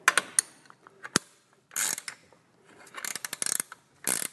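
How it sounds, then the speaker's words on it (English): Bolts on an adult tricycle seat being tightened with a 13mm spanner: bursts of close ratcheting, clicking metal turns separated by short pauses, with a sharp tap near the start and no voices. "using a 13mm spanner, we need to tighten a little bit on each side"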